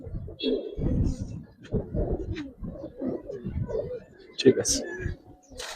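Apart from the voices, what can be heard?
Giribaz racing pigeons cooing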